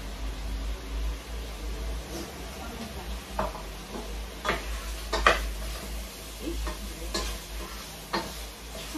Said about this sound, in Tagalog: isugay ko pa siya ng konti para mas lumasa yung sibuyas at yung bawang